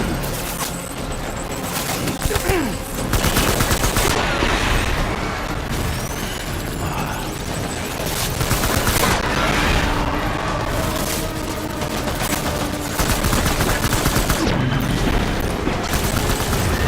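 Loud, dense gunfire in the video game Death Stranding: continuous overlapping shots and bursts with booming impacts, forming a chaotic battle din throughout.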